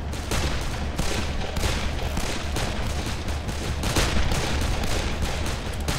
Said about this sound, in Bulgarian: Да, тука има главно стрелба.